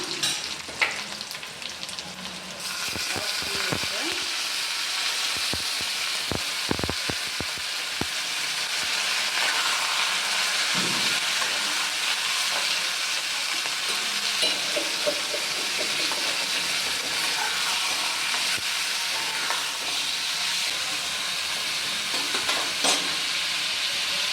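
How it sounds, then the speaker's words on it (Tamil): Mutton frying with sautéed onions in a pan gives a steady, close sizzle across the whole stretch, with scraping, stirring clinks early on and no talking. "வெங்காயம் நல்லா வதங்கிடுச்சு. இப்போ மட்டன் போட்டுக்கலாம்."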